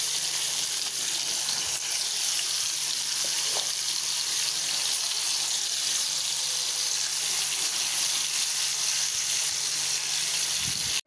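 Fish fries in a pan with a continuous, even sizzle and hiss that holds steady from start to finish.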